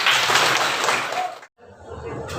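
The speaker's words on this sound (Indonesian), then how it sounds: "Ya, bagus, tepuk tangan dulu." Classroom applause from students in a healthy-relationships lesson, a dense patter of clapping that fades, drops out briefly, then returns more thinly.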